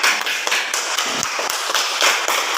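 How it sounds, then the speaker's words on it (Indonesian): A group claps together in a school setting, a loud, fast, busy patter of hand claps that runs steadily throughout with no talk. "Tepuk tangan buat semuanya."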